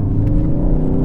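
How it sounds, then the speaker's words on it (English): A 2019 Ford Focus ST engine blips its revs to match a downshift, a steady close, loud low rumble with a slight lift in pitch and no talking over it. "there's the rev matching"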